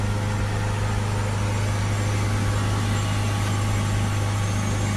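A Ford Focus 1.6 TDCi diesel engine is held steady at 3,000 RPM, giving a constant, even drone with a low hum underneath and no talking.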